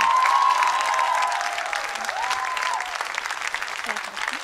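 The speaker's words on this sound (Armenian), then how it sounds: "Բուրը ծափարում ենք Զավեն եւ Մանան" An audience at a televised dance competition gala gives loud, sustained applause to a departing dance couple, the clapping thick at first and easing slightly, with faint music underneath.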